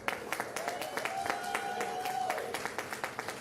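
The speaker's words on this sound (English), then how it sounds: "please twice the applause for first partner Jennifer Siebel Newsom" Crowd applause welcoming California's governor at a Los Angeles Unified school event, steady clapping of moderate loudness with a faint voice sounding beneath it.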